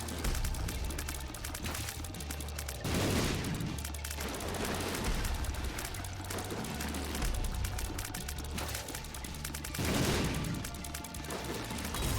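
Repeated explosions from The Binding of Isaac: Repentance burst loudly over a dense, continuous layer of game sound, with heavier blasts around three and ten seconds in.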